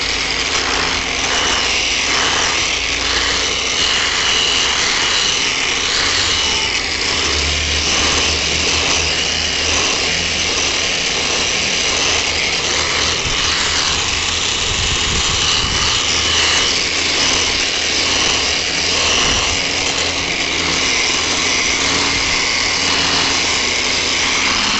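A felt polishing pad on a machine rubs paraffin onto a porcelain countertop, making a loud, continuous whirring motor drone with broadband buzzing that holds steady throughout.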